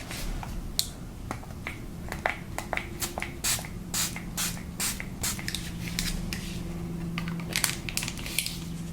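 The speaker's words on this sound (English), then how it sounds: "finish you off with a little bit of setting spray" Repeated short misty bursts of makeup setting spray close by, a series of quick pumps with soft rustling between them.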